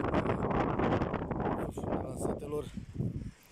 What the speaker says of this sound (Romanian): Începe vântul să bată din ce în ce mai tare, extraordinar de tare.